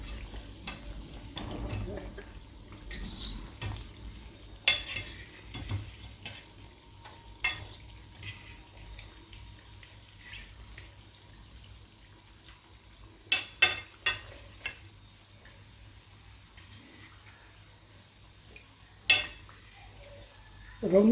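Shakkar para, sugar-coated dough snacks, frying in oil over a medium flame, giving a soft continuous sizzle with intermittent stirring scrapes and utensil clinks close by.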